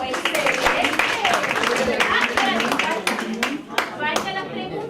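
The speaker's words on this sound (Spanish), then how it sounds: "un aplauso, excelente" Attendees at a health professions symposium clap in a short burst of applause, fairly close and loud, with voices talking over and around the clapping.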